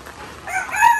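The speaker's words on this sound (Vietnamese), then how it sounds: "Đấy, dưới này nuôi gà." Chickens clucking with a rooster crowing at a rural home's chicken run below an orchid garden, loud and close in a brief burst.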